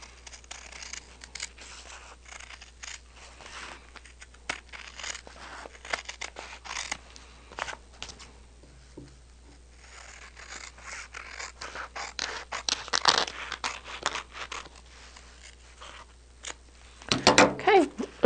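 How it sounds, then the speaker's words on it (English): Scissors snip and scrape along a dotted line on paper for a quilt block, a run of dry cutting strokes that turns louder and denser near the end, with no talk over it. "you can do that either with the ruler or you can do it with the scissors."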